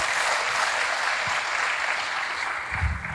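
A congregation in church claps steadily, a soft, even wash of applause without talk.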